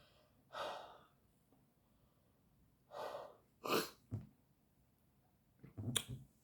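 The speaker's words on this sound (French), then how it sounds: "je vais éternuer" A single person sneezes indoors, with quick inhaled gasps before a sharp burst and a smaller follow-up, separated by quiet pauses.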